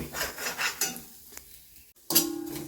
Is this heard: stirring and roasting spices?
yes